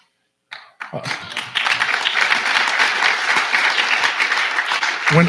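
Applause from an audience at a conference athlete panel, breaking out after a short pause and swelling into sustained, dense clapping that stays loud and steady to the end.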